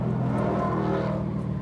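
Porsche 991 GT3 RS rolling slowly into a parking spot, its engine giving a loud, close, steady low rumble with a slight rise in revs.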